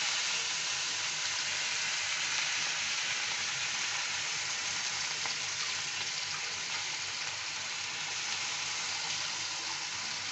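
Grated carrot sautéing in a hot pan sizzles in a steady, even hiss that holds at moderate loudness from start to finish, with no voices over it.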